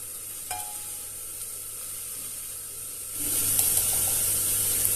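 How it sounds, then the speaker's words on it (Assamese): Tomato paste with spices fries in a pan, a steady bright sizzle that swells louder partway through as more goes in, with a light clink early on. "ভালদৰে ভাজি লৈছো এতিয়া গুটেখিনি দি দিছো এতিয়া মছলাখিনি"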